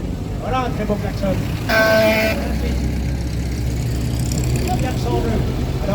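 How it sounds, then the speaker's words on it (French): A vintage car at a Le Mans classic car event sounds its horn in one loud honk over a rumbling engine and outdoor crowd noise, with someone talking nearby. "Voilà un très beau klaxon."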